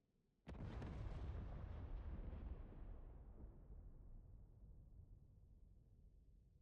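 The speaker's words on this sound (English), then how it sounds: "both bombs detonated in the vicinity of the target" A bomb detonation near a ground target in the DCS combat flight simulator: one sudden heavy blast that rumbles and slowly fades into a long, distant decaying roar, with no talk.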